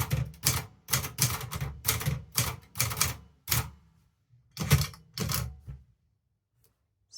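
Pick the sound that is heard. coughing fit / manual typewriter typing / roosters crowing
manual typewriter typing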